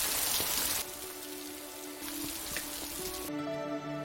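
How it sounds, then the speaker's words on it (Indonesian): Steady rain falling on a surface, a soft continuous hiss with scattered drops, quiet and unbroken throughout. "Di antara rintik air hujan"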